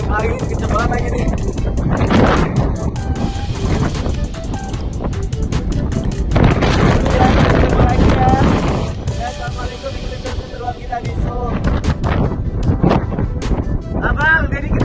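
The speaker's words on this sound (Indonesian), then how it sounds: "Ketiup angin kencang banget lagi nih." Strong wind gusts outdoors in Korea, roaring and buffeting the microphone in loud waves across the whole stretch while people talk over it.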